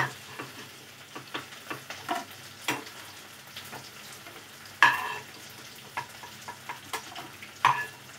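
Fried potatoes are lifted out of hot oil in a pan, with low sizzling beneath a series of light spatula taps and scrapes, a few sharper clinks standing out.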